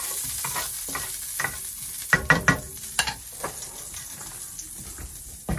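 Pork chops browning in a pan alongside bacon, a continuous sizzle punctuated by sharp, close clanks and scrapes of a utensil against the pan.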